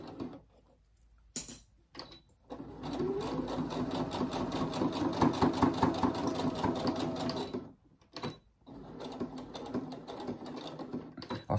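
Sewing machine stitching a fabric phone pouch on a longer stitch length, heard close up in a brief start, then a sustained rattling run of several seconds with slight speed changes before stopping and starting again.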